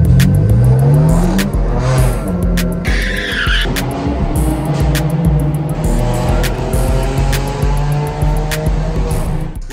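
BMW G80 M3 and G82 M4 sports cars rev hard on a San Francisco street, loud and close, with engines climbing and dropping, crackling exhaust and brief tire squeal throughout.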